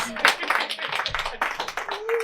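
Sparse, uneven clapping from a small comedy-club audience for a stand-up comedian, a few scattered hand claps close by under voices and chatter.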